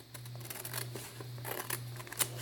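Scissors snip through paper close up, a quick series of soft crisp cuts over a low steady electrical hum.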